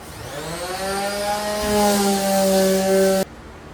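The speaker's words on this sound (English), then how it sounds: "So what we're doing is just sanding them down." A steady, whining power sander tone with strong harmonics runs for about three seconds, then cuts off abruptly, sanding a cargo trailer during conversion.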